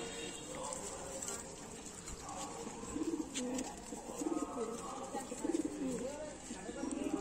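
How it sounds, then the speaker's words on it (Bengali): Pigeons at a loft near Sodepur Road in Kolkata coo in soft, low repeated phrases, a few close calls rising over a busy background while someone talks nearby. "দেখুন পায়রার কোয়ালিটি খুব ভালো"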